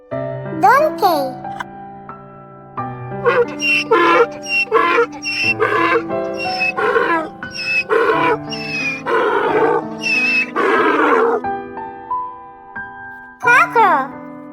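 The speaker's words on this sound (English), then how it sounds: "Donkey." Donkey braying in a toddlers' animal sounds song, loud and repeated in long rising and falling honks over a steady musical backing, with a short final bray after a pause.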